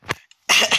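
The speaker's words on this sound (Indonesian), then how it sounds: "Aduh, sorry guys, gue batuk." A single short cough, with a brief hiss before it, from a person playing Minecraft while farming sugar cane, close and abrupt.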